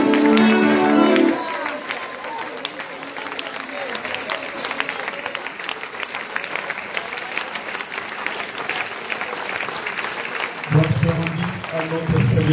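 Congregation at a church seminar clapping and cheering in a sustained burst of applause, with singing or speech over music at the start and again near the end.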